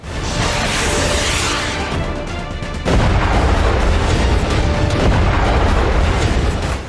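Dense, continuous rumbling blasts of a rocket and artillery barrage in Himalayan military drills, loud and overlapping, with a fresh surge of booms partway through that keeps the roar going.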